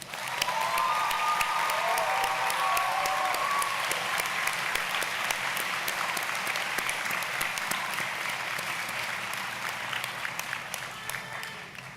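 Graduates at Manhattan University's 2025 undergraduate commencement fill a large space with sustained, dense applause from a big crowd, holding loud and even for the whole stretch before easing slightly at the end.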